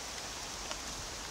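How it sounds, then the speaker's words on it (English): Rain falls outdoors and patters onto a tablet, a faint, even hiss of drops lasting only a moment with no voices. "it's every time the rain hits the tablet"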